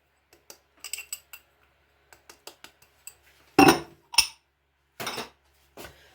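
A spoon mixes whole-wheat flour, almond powder, oats and cornflakes in a bowl, making light close clinks and taps, then a few louder scraping strokes against the side of the bowl with quiet pauses between them.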